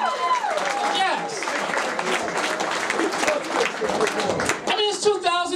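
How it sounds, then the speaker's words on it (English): A comedy club audience breaks into applause and cheering, clapping mixed with whoops and excited voices, lively and close throughout. "Clap if you think racism is stupid."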